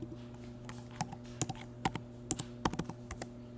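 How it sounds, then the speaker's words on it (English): Keys clack on a computer keyboard in a burst of irregular, close taps over a steady low hum, as a colour code is entered. "I'm going to type in that color code, DB9D00"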